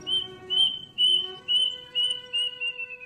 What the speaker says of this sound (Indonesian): Burung kedasi, ataupun juga yang cukup akrab disapa sebagai uncuing, selalu bersuara dengan memberikan kesan kesedihan yang bercampur rasa seram.